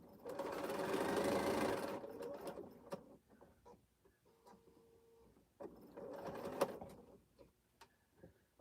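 A sewing machine stitches a long quilt seam with open seam allowances, whirring steadily for two short bursts separated by a quiet pause with faint handling clicks, fairly soft overall.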